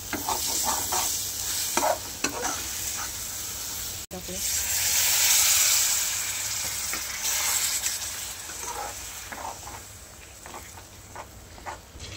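Steady sizzling of food frying in hot oil, with stirring scrapes and clinks throughout and a louder hissing burst partway through.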